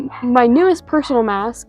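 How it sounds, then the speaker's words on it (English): A house dog barks and yips indoors in several quick bursts, close and fairly loud, while a person talks over it. "Sorry if you can hear my dog barking"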